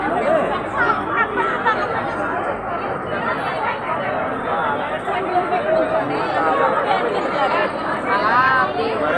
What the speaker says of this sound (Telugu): చూడండి ఎంత పెద్ద జనమో